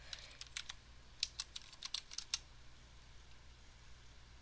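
Soft keystrokes on a computer keyboard while coding a Discord bot, a quick run of light clicks clustered over roughly two seconds against a faint low hum.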